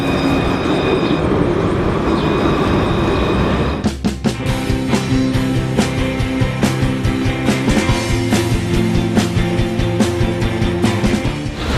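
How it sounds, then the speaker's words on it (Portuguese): The Tranvía del Este tram passes through Puerto Madero, Buenos Aires, starting as a steady rumble, then rolling into a rhythmic series of wheel clacks and rattles that repeat for several seconds. "tem esse trem que é o Tranvía del Este"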